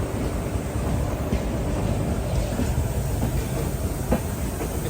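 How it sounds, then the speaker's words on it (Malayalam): Shanti Express passenger train in India rolling past with a steady rumble and repeated wheel clatter over rail joints, close and moderately loud, with no talk. "ഇവിടെ ഒരു WP5 ഉണ്ട്. ഇത് ശാന്തി എക്സ്പ്രസ്."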